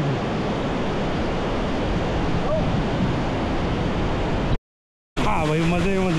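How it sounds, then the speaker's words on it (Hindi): Waterfall at Amboli ghat roars as a dense, steady wash of falling water, loud and close. It cuts out briefly, then a voice speaks over it. "इसे वही देखिए यहाँ से गिर, बहुत ही खूबसूरत ऐसा वाटरफॉल है"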